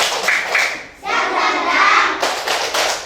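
A group claps hands in quick rhythmic bursts, loud and close, with a brief pause between patterns.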